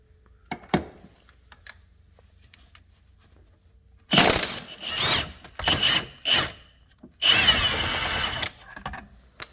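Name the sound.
power impact wrench removing shock absorber bolts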